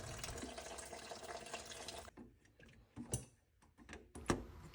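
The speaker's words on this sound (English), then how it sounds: "I'm going to pour some more water down there with the syringe." Water from a syringe is poured into a boiler flue test point, a trickling, gurgling pour that stops abruptly, followed by faint drips and small plastic clicks nearby.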